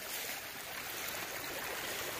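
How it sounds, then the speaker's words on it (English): A small creek along the Appalachian Trail flows and babbles in a steady, close rush of water with no talk. "this is the little creek here"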